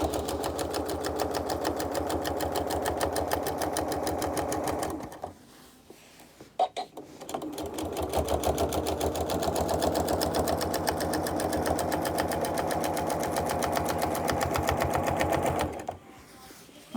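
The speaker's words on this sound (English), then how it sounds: "I have my sewing machine set to make a tiny knot when I start a line of stitching." A sewing machine runs steadily while stitching a quilt, set to tie a tiny knot at the start of each line and fitted with a foot carrying a small guide ledge; a loud mechanical whir stops near five seconds, restarts, then halts again.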